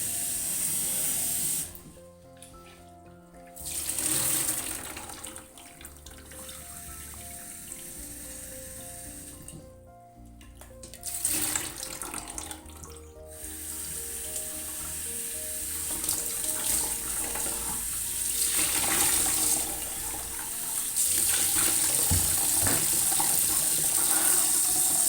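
Water runs steadily from a tap as freshly polished quartz stones from a rock tumbler are rinsed and decanted, the flow loud and continuous with brief dips and splashy surges throughout.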